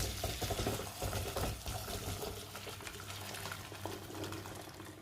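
Dark water from boiled groundnuts pours through a sieve in a steady, splashing stream that runs for several seconds, fairly close and moderately loud, with no talking.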